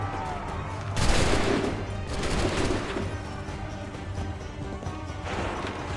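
Musket volley gunfire in Assassin's Creed 3 on Nintendo Switch: a loud burst of massed musket shots erupts, then rumbling battle noise and scattered reports continue over ambient game sound with faint voices.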